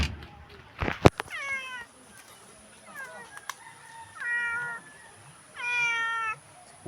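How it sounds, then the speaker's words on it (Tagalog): A cat meows several times, drawn-out and plaintive, spaced across a few seconds against faint outdoor background noise. "Pusa."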